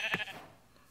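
A single short sheep bleat in Minecraft, fairly faint, with a thin electronic quality, followed by quiet.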